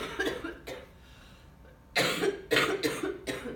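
Several harsh coughs in bursts: two quick ones, a pause, then a rapid cluster of three or four, fairly close and loud.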